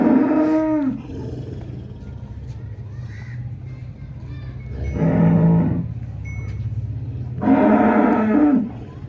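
A Cholistani Friesian cross dairy cow moos three times, long and loud, with a steady low hum and faint background noise between the calls.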